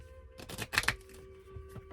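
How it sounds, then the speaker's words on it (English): A deck of cards that resists shuffling, riffled close by in a couple of quick crackling bursts followed by lighter flicks, with no voices. "These cards don't shuffle that well."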